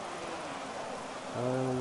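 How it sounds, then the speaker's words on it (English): Rain falls steadily as a dense hiss during a multiclass LMP2 and GT3 race at the Nürburgring GP in the Project Cars racing game, with a car engine tone rising in near the end. "The weather is bad with rain"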